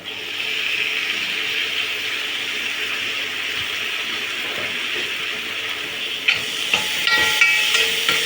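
Finely chopped tomatoes sizzle in a pan while being sautéed for a brinjal and drumstick varuval, a steady loud hiss running throughout, with a few sharper clatters near the end.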